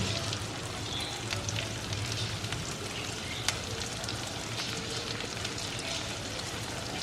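Thinly sliced onions and slit green chillies fry in a pan for a creamy paneer curry, giving a steady, close sizzle and crackle that runs throughout with no talking.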